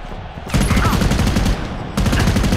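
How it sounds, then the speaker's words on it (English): Missile strike in the online shooter Modern Combat Versus, a loud, close barrage of rapid pounding blasts in two dense volleys separated by a brief lull. "Friendly missile strike coming your way."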